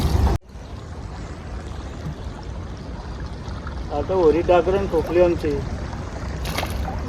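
A rowboat moves on a creek after overnight rain, with soft steady water wash and swishing throughout and someone talking over it partway through.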